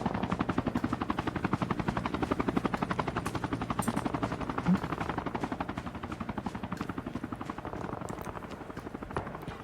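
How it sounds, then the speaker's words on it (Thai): A helicopter-like aircraft flies ahead in a shooting video game, its rotor making a steady, rapid, fairly loud chopping pulse that continues for the whole stretch. "มีเครื่องบินด้วยนะครับข้างหน้า"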